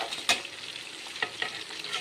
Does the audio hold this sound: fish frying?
yes